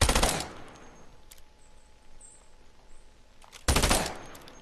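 Two bursts of submachine-gun fire in a shooter video game, one loud burst at the start and another near the end, with quieter game ambience in between.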